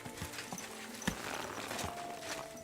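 Horse hooves clip-clop steadily in a video game, a moderately loud walking rhythm over a busy ambient game soundscape, with one sharp thump partway through.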